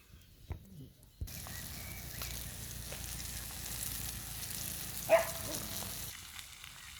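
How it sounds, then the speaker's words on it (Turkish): Fish frying in a pan outdoors in a field, a steady soft sizzle that carries on without pause, with a brief louder pop partway through. "Balık koydum tavaya, başladı oynamaya."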